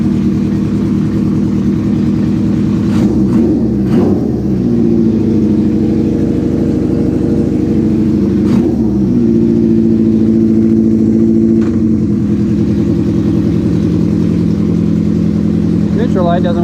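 Restored motorcycle engine idling and running steadily before setting off on its first ride, a loud continuous low rumble with a few brief revs and clunks, with a person talking over it.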